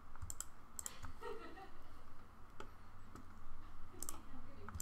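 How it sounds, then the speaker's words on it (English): Computer keyboard typing during 3D modeling work, faint scattered clicks and key taps over a low background hum. "while I do this riveting typing"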